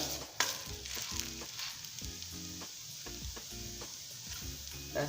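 Silk dosa frying in a pan gives a continuous close sizzle with crackling, joined by a dull rhythmic scraping and tapping as it is turned, fairly quiet overall and without speech.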